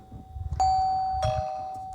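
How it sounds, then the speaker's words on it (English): A doorbell chimes twice, two bright ringing tones about half a second apart, each sustaining and slowly decaying, with faint low background noise. "is that a bell I'm hearing?"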